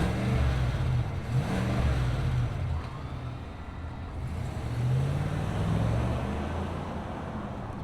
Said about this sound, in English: let's fire up this V8 and hear its rumble